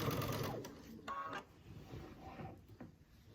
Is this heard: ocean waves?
no